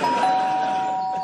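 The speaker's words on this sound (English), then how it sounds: "what's wrong with the doorbell?" A doorbell rings with a sustained electronic tone that holds steady and slowly fades, heard alone over faint room noise.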